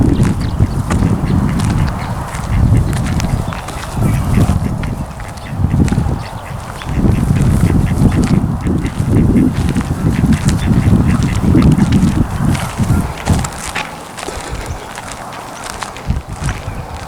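Ducks, two males, quacking repeatedly in bursts on a levee, loud and nearby, with short pauses between calls and a faint outdoor background.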